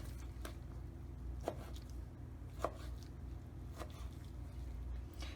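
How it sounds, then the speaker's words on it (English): A knife cuts mahi fillet into roughly 1-inch pieces on a board. Several soft, separate chops land at an uneven pace against a quiet background. "we are going to cut the fish into about 1-inch pieces"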